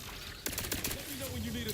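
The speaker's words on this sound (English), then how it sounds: "Those are definitely turrets." Turrets firing in The Outer Worlds 2, a quick volley of sharp, moderately distant shots in a rapid burst, followed by a fainter whining tone and lingering ambience.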